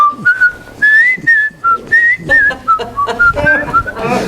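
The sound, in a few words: whistling the Andy Griffith theme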